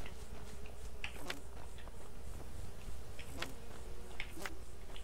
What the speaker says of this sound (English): Lots of bees around here.